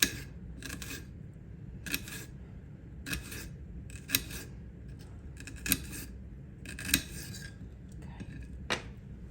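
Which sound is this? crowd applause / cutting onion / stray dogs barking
cutting onion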